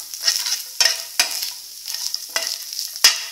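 Ingredients frying in coconut oil for coconut rice, stirred with a utensil that makes sharp, irregular scraping strokes roughly every half second over a light, close sizzle.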